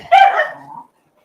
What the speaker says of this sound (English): when he starts barking at her, she'll start barking at him